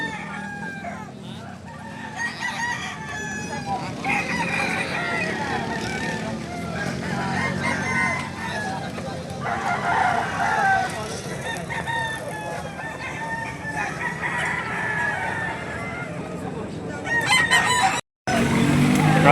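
A rooster crows repeatedly in a farmyard setting, its long warbling calls rising and falling over clucking and other fowl, fairly close, with some talk and background noise mixed in.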